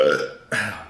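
A single short burp comes in two quick close pulses, loud against a quiet background.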